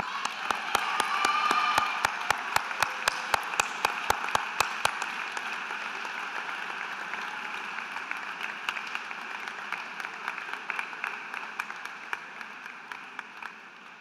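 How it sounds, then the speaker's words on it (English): Parents and guests at the 2018 Collegiate Academy graduation ceremony applaud the graduates: sustained crowd clapping that swells early, then gradually thins, with sharp, regular claps near the microphone punctuating the steady wash. "parents, please join me in a round of applause for our graduates"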